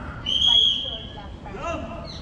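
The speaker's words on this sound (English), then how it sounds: "That's what that guy just whistled for." A man gives a single sharp, sustained whistle to warn visitors at a site in Delhi, close and piercing, followed by a murmur of voices.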